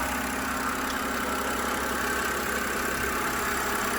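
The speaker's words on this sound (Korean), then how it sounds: "이 정도면 엔진 소리가 정숙한 편이죠." A BMW E90 328i idles with its hood open: a steady, smooth engine hum that stays even and fairly close throughout, with no talking.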